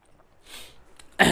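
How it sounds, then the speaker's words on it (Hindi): A teacher in a Hindi-language history lesson gives a single sharp, close cough after a faint breathy throat sound, with no talking around it. "खांसी हो गया पता नहीं क्यों।"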